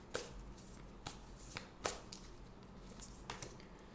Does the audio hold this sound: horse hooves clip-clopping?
no